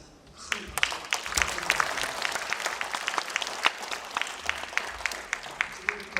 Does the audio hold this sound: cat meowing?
no